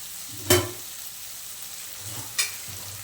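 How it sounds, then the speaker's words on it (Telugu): Okra curry sizzles in a pan under a low, steady frying hiss, with two brief scraping strokes of a stirring spoon, faint and close, with no talking. "ఇంకా దగ్గర పడేంత వరకు కలపెట్టుకుంటూ ఉండాలి"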